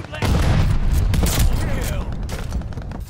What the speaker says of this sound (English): An example is the blast that comes out of the combat shotgun.